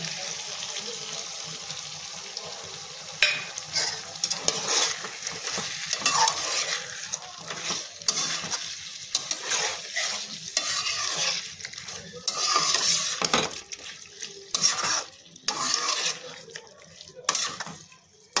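Chicken is stirred in a pan as ground cashew paste goes in, with busy scraping and clattering of a spoon against the pan over a constant sizzle, close and fairly loud throughout.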